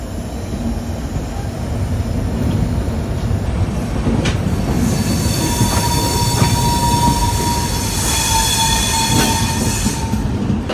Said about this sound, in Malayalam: ഇത് ഗുണ്ടക്കൽ ഷെഡിൻ്റെ 2 WAG7 ട്വിൻസാ.